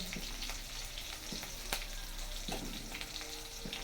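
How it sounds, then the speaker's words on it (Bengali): Green chillies sizzle and spit in hot oil in a pan, a dense continuous crackle with sharp pops scattered throughout, close and fairly loud with no talk. "কাঁচা লঙ্কাটাও দিলে কিন্তু খুব সুন্দর গন্ধ বেরোয় কিন্তু সাবধান ফুটবে খুব"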